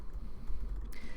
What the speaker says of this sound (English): type in exactly what I'm typing in right now